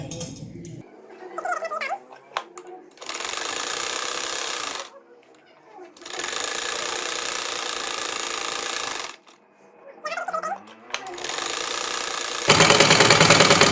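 An electric sewing machine stitches the hem of a salwar poncha with a butterfly-tie design, running in three long steady whirring bursts separated by short pauses with handling noises, loud and close.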